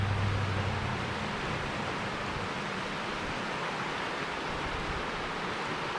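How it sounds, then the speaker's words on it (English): A creek flows beside a road in late August near the Yankee Fork gold dredge, giving a steady, unbroken broadband rush of moving water that holds at an even level throughout. "flowing creek"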